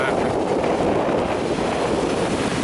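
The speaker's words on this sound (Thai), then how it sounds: "ลมแรงแล้วก็หนาว" Strong, cold wind in China roars steadily as broadband rushing at close range, buffeting the microphone with no pauses or voices throughout.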